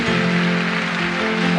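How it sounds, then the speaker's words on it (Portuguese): Church congregation clapping harder during a Catholic Mass, a continuous dense patter of many hands over a held keyboard chord, with no speech. "Pode ser mais forte essa palma."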